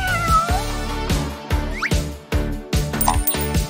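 A cat meows over loud, rhythmic electronic music with pounding beats, the short meow and squeaky sounds partly buried in the busy mix.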